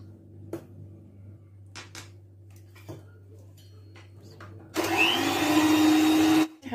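An electric mixer whirs loudly for about two seconds, beating eggs into biscuit batter, after a few soft kitchen clinks and bumps in a quiet room.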